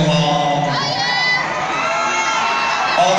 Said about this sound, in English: huge crowd reaction, which is applause and singing along